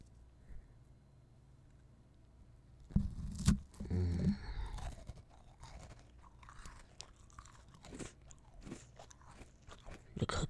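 A chocolate chip cookie is bitten and chewed close up, with a few sharp, loud crunches followed by quieter, irregular crunching and mouth sounds, heard alone without talk.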